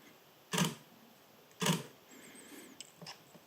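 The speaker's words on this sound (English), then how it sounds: "let's have a listen to the standard mechanical shutter." A Nikon Z7 camera's standard mechanical shutter fires twice, each a crisp, close mechanical clack about a second apart, followed by faint small clicks and handling noise.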